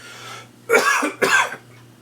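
A pair of rough, throaty coughs close up, one after the other, over a faint constant hum, with no speech.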